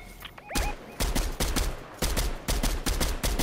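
Gunfire in a Fortnite match, rapid bursts of loud shots fired in quick clusters with brief pauses between them, close and dominant with no talk over it.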